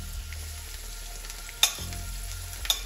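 Vermouth cooks in a hot pan with a quiet, even sizzle, broken by two sharp metallic clinks of a utensil on the pan.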